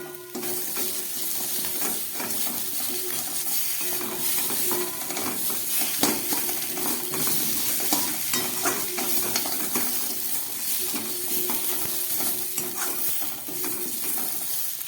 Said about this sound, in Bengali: মশলা দিয়ে টেংরিটাকে খুব ভালো করে আমি ভেজে নিলাম